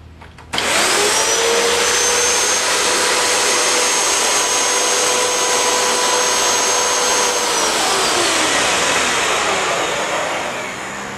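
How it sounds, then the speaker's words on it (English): A typical upright vacuum cleaner switches on and runs with a loud, steady high-pitched whine and rushing air, winding down slightly at the end. "This is what a normal vacuum would typically sound like."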